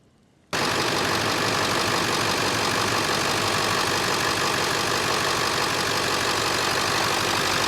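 A 7.3 diesel truck engine idles steadily after a top end oil treatment, a loud, dense knocking clatter that starts abruptly and runs unbroken, close to the microphone, with no talk.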